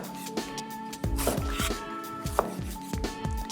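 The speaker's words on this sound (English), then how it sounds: "Ripe tomatoes in season, of course, always best. And I'll just cut those into some fairly large wedges." A Chinese slicer cleaver cuts ripe tomatoes into large wedges on a board, a close series of soft thuds at a fairly even pace with faint squishing, over a steady background hum and no speech.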